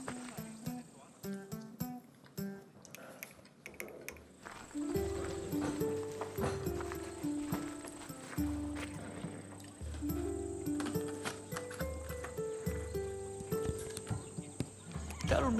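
Horse hooves clip-clop in Assassin's Creed Odyssey, a steady run of hoof beats that starts a few seconds in and continues under game music and dialogue.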